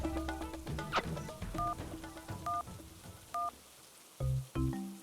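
A cartoon telephone number being dialed: a run of distinct keypad tones beeping one after another at an uneven pace, clean and fairly close, with no talking.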